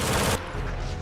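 A burst of rapid gunfire from German troops firing on landing craft during a World War II Ranger assault, a loud dense fusillade for about a third of a second that then cuts to a dull low rumble.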